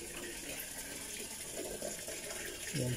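Water from a public-utility (Nawasa) tap runs in a steady, fairly quiet gush, with a slight change in the flow near the end, likely as a container fills.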